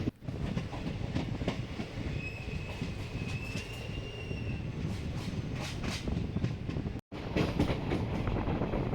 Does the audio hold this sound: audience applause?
no